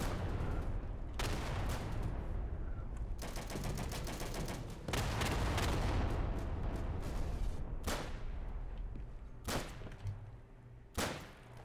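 Sustained gunfire in the WWII shooter game Day of Infamy, with rapid crackling volleys and sharp single shots close by, continuing loud throughout with almost no talk.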